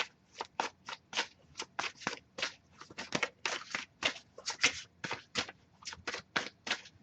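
Quick, papery riffles of tarot cards being shuffled, repeated in a steady rhythm of short bursts, close and fairly quiet.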